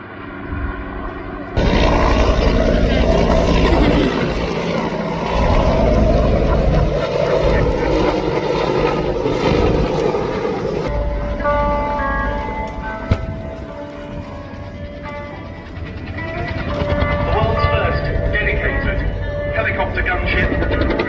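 A helicopter gunship's engine and rotor roar loudly and steadily at an air show, with a voice talking over it and a few sharp bangs in the background.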